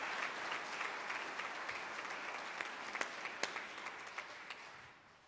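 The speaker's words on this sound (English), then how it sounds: "Let's get one more round of applause for these talented young women." An audience at an 8th grade graduation ceremony at a Catholic school applauds. The fairly quiet, dense clapping includes a few distinct sharp claps and thins out as it fades at the end.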